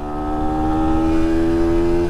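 A Sinnis SM-R 125cc supermoto motorcycle engine drones loudly and steadily at high revs while accelerating, a buzzing tone holding nearly constant pitch.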